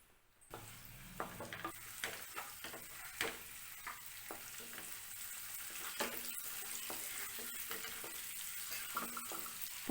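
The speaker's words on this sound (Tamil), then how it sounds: "கொஞ்சம் மிளகாத்தூள் போட்டுட்டு இந்த முட்டையை கொஞ்சம் ஃப்ரை பண்ணி எடுத்துக்கலாம்" Eggs frying in hot oil with chili powder in a pan, a soft continuous sizzle with scattered small pops and scrapes, steady and close with no talking.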